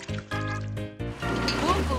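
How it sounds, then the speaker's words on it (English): In a cartoon, water is poured onto a flower, a trickling, splashing pour heard beneath cartoon music and a narrating voice. "Bus is watering the flower."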